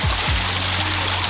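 A backyard pond waterfall runs in a steady, close rushing flow with a low hum underneath, continuous for the whole moment.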